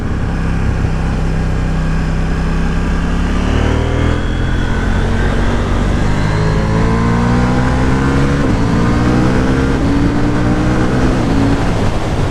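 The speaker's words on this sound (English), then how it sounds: "The parallel twin engine is so punchy and powerful." A KTM 790 Duke motorcycle with a parallel twin engine accelerates hard in sport mode, its loud, close engine note climbing through several quick gear changes with no talking.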